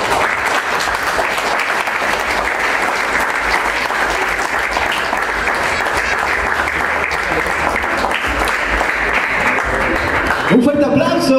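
Loud, sustained applause from a large crowd at a quinceañera celebration fills the whole stretch, dense and steady, tapering briefly near the end as a voice cuts in.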